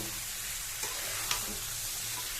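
Potato and soybean chunks fry with spices in a pan, making a soft continuous sizzle with a couple of brief stirring scrapes, no voices.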